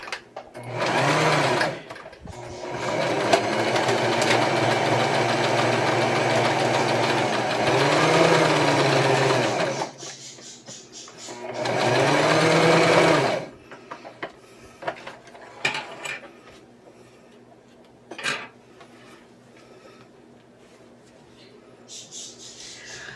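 Sewing machine stitching fabric pieces for a puffy Christmas tree decoration, running in two long steady bursts with a pause between, then stopping for softer handling clicks and rustles.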